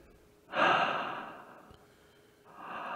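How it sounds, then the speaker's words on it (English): Heavy breathing from a character in the video game The Bunker: a loud, close exhale that swells suddenly, fades slowly, then a second breath building near the end, with no talking. "he's breathing heavy"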